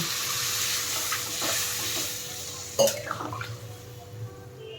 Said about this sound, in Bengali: ভালো করে মিশিয়ে নিয়ে এবার আমি এর মধ্যে দিয়ে দিচ্ছি জল